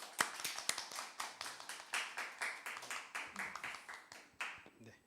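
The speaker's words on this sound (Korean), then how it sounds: "힘차게 우리 축복과 환영의 박수 하도록 하겠습니다" A church congregation applauds in welcome, a steady patter of many hands clapping in a quick, fairly even rhythm, heard faintly and a little distant for several seconds.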